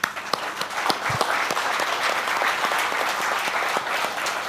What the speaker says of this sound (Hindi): आई वॉन्ट तालियां ऑन दिस